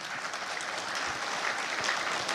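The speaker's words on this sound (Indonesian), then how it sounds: "Kita beri tepuk tangan buat rakyat Indonesia" A crowd at a party declaration event in Indonesia applauds, a sustained dense wash of clapping from many hands that stays steady and loud throughout, with no speech over it.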